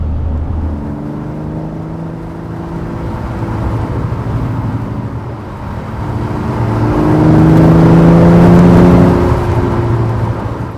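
An Aston Martin Vanquish engine hums inside the cabin on the move, a steady, muted drone with tonal whine that rises and swells louder toward the end as the car accelerates; no talking.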